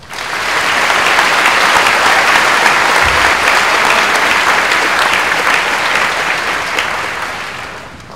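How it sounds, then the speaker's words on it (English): Sustained audience applause at a 2022 high school commencement for West Holmes High School, a dense steady roar of many hands clapping from a large crowd, swelling quickly and tapering slightly at the end, with no talk over it. "Please join us in a round of applause."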